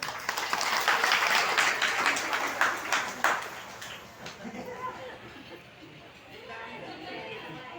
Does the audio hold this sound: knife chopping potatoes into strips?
no